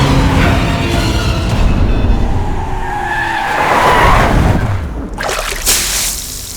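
In a Hindi-dubbed action film, a car pulls away with tyres skidding and squealing, a loud, close engine surge and screech ending in a final burst, with no talk over it.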